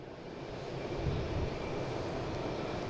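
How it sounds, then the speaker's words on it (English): A Japan Airlines airliner comes in to land, its engine noise a steady, diffuse roar that swells slightly toward the middle and holds at a moderate, somewhat distant level without any voices. "Now we get Japan Airlines coming in."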